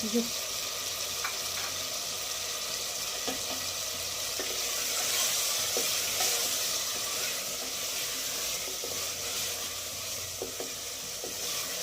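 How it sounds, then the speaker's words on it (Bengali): Chicken pieces stir-fried in a thick spicy Bengali curry gravy with chopped coriander, a steady sizzle broken by scattered spatula scrapes and clicks, close and continuous. "তারপর কেটে রাখা ধনেপাতাগুলো চিকেনের উপর দিয়ে কষবো"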